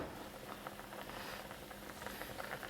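Jeju-style jack mackerel soup with napa cabbage and Cheongyang chili bubbling in a pot: a soft, steady patter of boiling, quiet and continuous with no voices.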